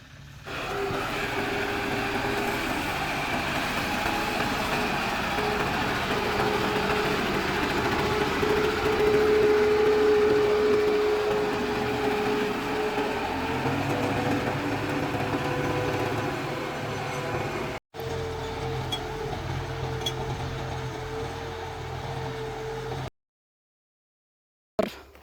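A tractor pulling a reversible plough to form beds on a dragon fruit plot, its engine giving a steady, loud, unbroken drone for over twenty seconds before cutting out briefly and then falling silent.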